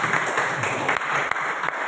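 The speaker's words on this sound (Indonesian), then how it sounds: "Boleh tepuk tangan dulu untuk kita semua." An audience at a teachers' event on Morotai Island claps steadily throughout, a dense, continuous patter of many hands at fairly close range.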